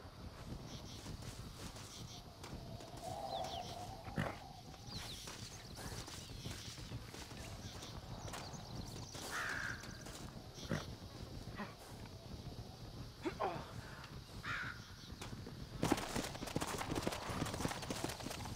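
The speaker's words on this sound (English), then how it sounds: "Looks like Carlos left us some horses" Horse hooves clip-clop at a steady rhythm in the Western video game Red Dead Redemption, moderately close under a windy outdoor backdrop, with a few faint whinnies and distant calls.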